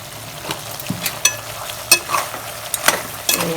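Duck meat sizzles loudly in a pan while a utensil stirs and scrapes it in irregular bursts, close up and without voices.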